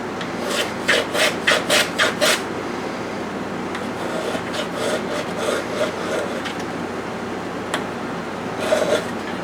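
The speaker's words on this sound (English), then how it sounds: "what I'll do now, shave a little bit of a bevel into there" A hand tool shaving a bevel into wooden soundboard bracing, a quick run of rhythmic rasping strokes up close, then softer scattered scraping and a final short pair of strokes.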